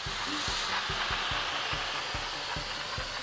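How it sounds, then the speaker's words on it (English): A Dupray Neat steam cleaner gives a broad, steady hiss of steam running continuously, with a low rhythmic thumping pulse underneath, close and fairly quiet. "So here are some of the things that the Dupray Neat Steam Cleaner can be used for."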